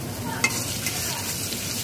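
Black mustard seeds, fenugreek, whole cumin and chopped ginger fry in oil in a wok over low-to-medium flame, giving a dense, steady sizzle with one faint clink, close and unbroken.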